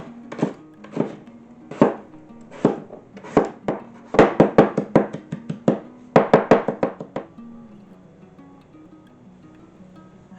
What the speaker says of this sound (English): I'm going to cut up some potatoes, leeks, and thyme